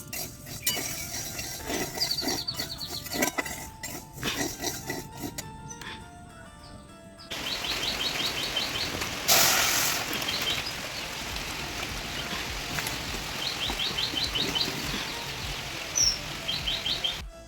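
Myna birds calling in a rural morning setting, bright chirps repeating through the clip over a steady hiss like light rain, with a brief louder burst near the middle; no one talks.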